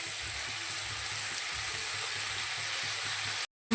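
Cut, washed cabbage hits a hot pan and fries with a steady close sizzle and light stirring noise, continuous until it cuts off near the end.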